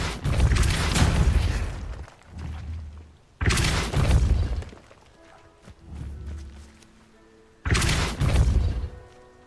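Depulso force spell cast in Hogwarts Legacy, three loud booming blasts with rushing bursts, each followed by quieter rumbling and mechanical clatter in between.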